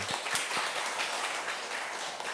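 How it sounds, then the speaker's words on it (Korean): Korean church congregation clapping together during a Sunday service to comfort a grieving family: a thick, continuous patter of many hands, with a few sharper claps standing out near the start. "우리 함께 박수하겠습니다."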